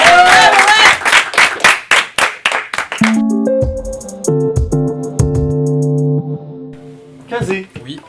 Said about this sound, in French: Allez, on l'applaudit encore s'il vous plaît.